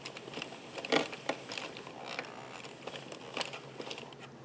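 An addi knitting machine being cranked back and forth, a continuous run of close ratcheting clicks and creaks from its needles and gears, irregular in rhythm with occasional sharper clacks.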